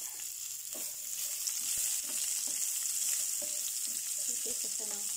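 Onion and garlic sizzle steadily in hot oil, a bright constant frying hiss with occasional stirring scrapes and clinks close up.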